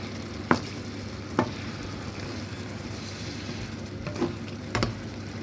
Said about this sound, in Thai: ผัดให้เข้ากันจ้าไว้สักพักค่ะ